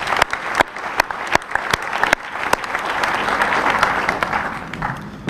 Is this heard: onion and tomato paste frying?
no